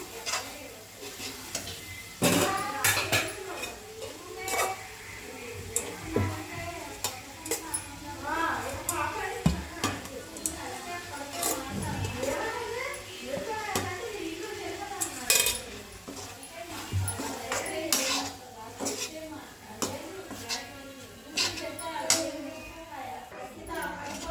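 Rice being stirred into a pan of tomato rice, with repeated scraping and clattering of a spoon against the pan over a soft sizzle, sustained and close, while someone talks over the cooking.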